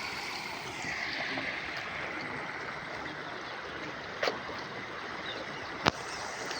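Water pouring down into the 800-metre tunnel of the Mettur east bank irrigation canal, a steady rushing flow held at an even level, broken by two brief sharp clicks.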